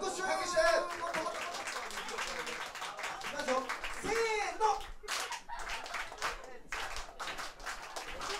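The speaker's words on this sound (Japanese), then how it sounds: "せーの、拍手拍手" An audience at a festival event claps in rhythmic bursts, with sharp distinct claps and chatter and voices mixed in throughout.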